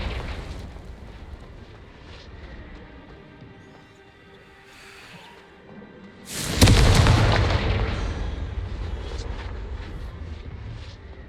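Confringo explosive spell in the Hogwarts Legacy video game goes off as a sudden loud boom partway through, following a quieter stretch of faint magical whooshes, and leaves a long rumbling roar that slowly fades.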